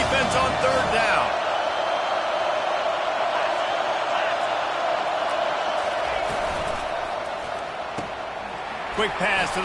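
A steady roar of a stadium crowd in a college football video game, Northern Illinois at Michigan State, sustained and loud throughout, with a commentator's voice over it and a few sharp thuds near the end.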